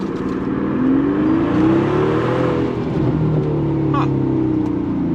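A Mercedes S65 AMG with a V12 accelerating hard, a loud, close engine roar that climbs steadily in pitch and then settles.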